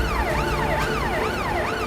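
A fire brigade vehicle's siren wails in a steady rising-and-falling sweep, loud and close, cycling about every half second over a noisy street background with no talking.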